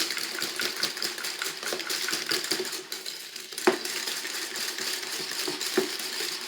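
Chocolate cake batter for a Breton pavé is mixed in a bowl, producing continuous scraping and clinking of a utensil against the bowl with a steady rhythm and a couple of sharper knocks, no talking.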